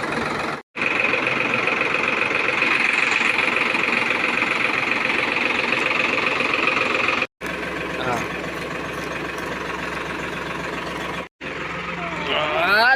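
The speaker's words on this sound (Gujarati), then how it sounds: "હાલો આવી ગયું નવું ટ્રેક્ટર, એકદમ ફર્સ્ટ ક્લાસ લીધું નવું." A new, modified Sonalika tractor engine runs steadily close by, a loud continuous idling rumble that cuts out briefly twice before resuming.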